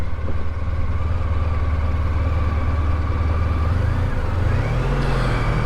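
A motorcycle engine, newer and smoother-running than a BMW R1250 RT, runs steadily at close range with a constant low drone, then rises in pitch toward the end as it revs.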